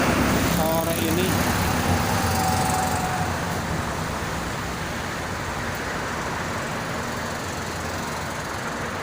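Traffic on the Jakarta–Cikampek toll road makes a steady broadband roar of passing vehicles, continuous and fairly loud, with wind buffeting and a voice talking over it near the start.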